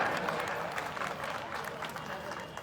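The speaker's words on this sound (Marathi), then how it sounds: "जोरदार एकदा टाळ्यांचा आपण गर्जना करूया. जोरदार टाळ्या." An audience applauds at the opening ceremony of a district council employees' divisional sports meet in Akola, dense crowd clapping sustained at an even level for the whole stretch, with some voices mixed in.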